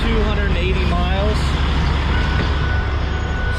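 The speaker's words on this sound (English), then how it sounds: "This truck beside me is extremely noisy." A noisy truck idles loudly beside a fuel stop, a heavy low diesel rumble with an intermittent high beeping tone and a brief hiss, close and continuous.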